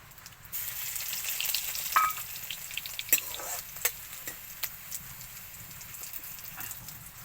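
Cumin, dried chilli and garlic frying in hot oil, a quiet steady sizzle with a few sharp pops and light stirring taps, heard close with no speech.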